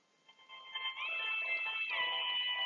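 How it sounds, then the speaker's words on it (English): An alarm goes off in a lecture setting, starting softly and then ringing as a steady, sustained electronic tone that holds loud to the end. "Oh, there's my alarm going off."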